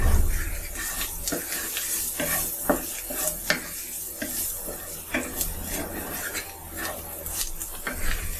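Spice paste for a prawn and taro-leaf dish being fried in a pan, with a continuous close sizzle and repeated scraping stirs of a spatula.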